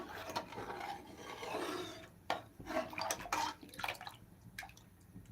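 A spoon scrapes and swirls against the bottom of a heavy pot of cow colostrum milk in uneven strokes, with soft liquid sloshing, close and fairly quiet.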